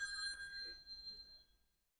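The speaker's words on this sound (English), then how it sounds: "Sorry, my husband's phone rang." A phone rings indoors, a faint metallic bell-like trill that sustains briefly, then fades into quiet.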